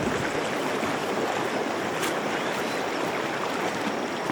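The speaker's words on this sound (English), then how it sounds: "The water is also flowing at a very high speed." Floodwater rushes fast through a sewer channel after heavy rain in Utawala, a loud, continuous broadband roar of churning water, close and unbroken.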